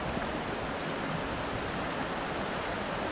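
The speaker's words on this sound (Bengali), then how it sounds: "দেখেন আমার পেছনে ছোট্ট একটা ঝর্ণা" Small waterfall on a hill trek, heard as a steady, even rush of falling water that holds the same level throughout, with no talking over it.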